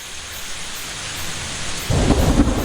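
A thunderstorm sound effect: steady heavy rain hisses throughout, then a loud rolling crack of thunder breaks in near the end and swells over the downpour.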